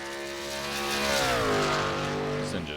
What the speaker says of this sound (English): This engine sounds a little lower than all the others that we've been listening to.